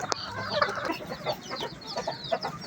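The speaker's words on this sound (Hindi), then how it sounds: "माशाल्लाह से जो है काफ़ी मुर्गियाँ हैं हमारे पास" Several backyard chickens of mixed breeds cluck and murmur close by in short overlapping calls, with occasional sharper squawks.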